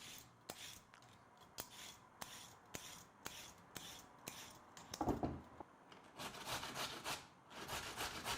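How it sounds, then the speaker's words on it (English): Carrots are grated by hand for creamed Portuguese salt cod, a steady series of sharp rasping strokes followed by a denser, louder scraping burst, close and with no talk. "we're gonna grate some carrots"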